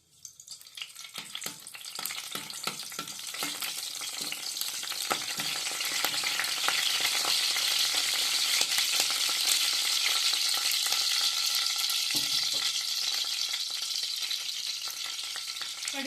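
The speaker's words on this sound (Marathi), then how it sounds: "तेल गरम झाल्यावर त्याच्यामध्ये कढीपत्त्याची पाने टाकून घ्यायचे" Curry leaves crackle in hot oil for a Maharashtrian cluster bean (gavar) and coconut bhaji: a loud, steady sizzle that swells in the first seconds and then holds, with scattered pops and a few stirring clicks, and no voices.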